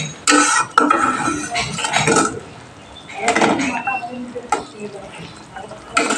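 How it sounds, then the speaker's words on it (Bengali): A spoon scrapes and clinks against a pot while potato and soybean curry is stirred, uneven bursts of metallic scraping and knocking close by, with a voice speaking between strokes. "ঝোলটা ফুটে গেছে এবার একটু নাড়িয়ে চাড়িয়ে দেবো"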